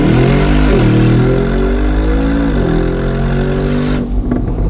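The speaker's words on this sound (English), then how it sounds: "It sounds like Like a monster, like that V8, you know?" A Brabus G63 with a V8 engine revs loud and close, its deep harmonic growl rising and falling across several sweeps of the throttle before cutting back sharply near the end.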